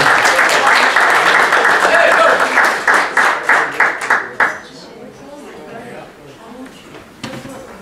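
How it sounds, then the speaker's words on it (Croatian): Applause from the crowd at a gathering of folk dance society members, loud and dense at first, then breaking into a few scattered claps before fading into quieter room murmur. "molim jedan aplauz za Neđo"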